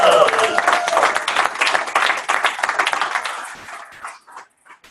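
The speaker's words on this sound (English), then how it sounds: "So let's give Tony a huge round of applause." An audience bursts into dense, loud applause that holds steady for several seconds before thinning into scattered claps and fading out.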